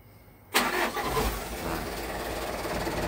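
A car engine cranks and catches after a quiet moment, flaring up loudly, then settling into a steady close idle that runs on to the end.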